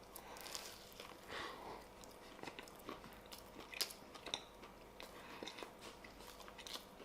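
Someone chews a homemade bar studded with whole roasted almonds, giving soft, close crunches and bites in an irregular rhythm at low volume, with a few sharper crunchy peaks and no talking.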